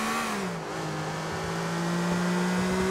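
A car engine in GTA IV held at full throttle, a steady loud revving drone whose pitch dips briefly then climbs slowly, continuous with no talk over it.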